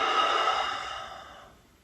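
A single long, airy exhale during yoga practice, a soft breath that starts full and close and slowly tapers to near silence.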